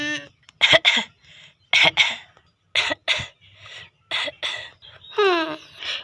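A series of sharp, close coughs in bursts, separated by short pauses, with a throaty, raspy quality and a brief wheezing note at the end.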